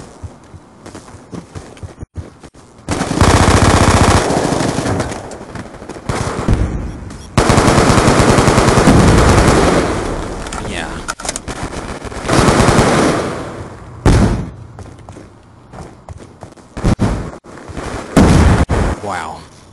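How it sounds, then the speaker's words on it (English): Rapid machine-gun bursts and gunshots from a first-person shooter in a hardcore search-and-destroy match, loud and dense, coming in repeated sustained volleys with short gaps between them. "You can hear the gunfire."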